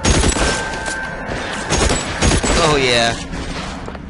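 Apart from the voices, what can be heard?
gunfire in the video game L.A. Noire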